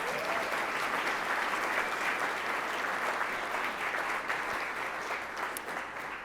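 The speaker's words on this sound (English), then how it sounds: "Please give them a round of applause." Sustained audience applause at a Columbus Metropolitan Club event, dense steady clapping from a sizable room that stays loud throughout and eases slightly at the end.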